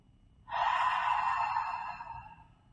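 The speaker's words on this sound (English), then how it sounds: "Take a big breath." A single deep inhalation taken while seated during chair yoga, close and clear, rising quickly and tapering off over about two seconds in a quiet room.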